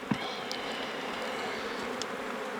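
Honeybees at an open hive in the Pantanal hum in a dense, continuous buzzing swarm, close and steady throughout, with a few brief louder passes of individual bees.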